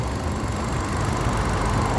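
A car engine idles steadily after its system has been cleaned, a continuous low rumble with a faint knocking texture and no talking.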